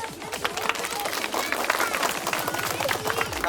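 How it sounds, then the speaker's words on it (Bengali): A group of children claps loudly and rapidly at a school magic show, with excited voices and chatter mixed in throughout. "হাততালি কিন্তু অনেক হবে"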